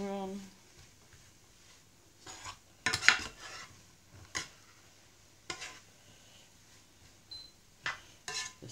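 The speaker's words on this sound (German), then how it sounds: "Umrühren." Stuffed mushrooms stirred in a pan: a few scraping, clinking utensil strokes against the pan, loudest around the middle, with quieter scrapes and taps between.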